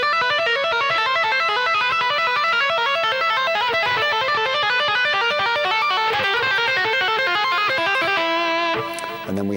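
Rapid two-hand tapped arpeggios on an electric guitar, a loud, continuous stream of bright legato notes shifting through patterns, ending on a brief sustained note.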